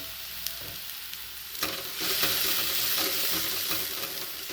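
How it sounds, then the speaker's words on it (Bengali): Spice paste with turmeric frying in a wok (kadai) for an egg curry, a steady broad sizzle that swells louder partway through, with faint stirring scrapes. "মশলাটা আমি কড়াইতে দিয়ে দিলাম"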